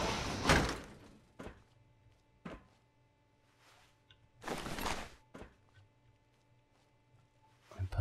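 A door in Fallout 4 opens with a loud mechanical slide and thunk, followed by a few softer knocks and a second heavy sliding rush, with a low steady hum underneath.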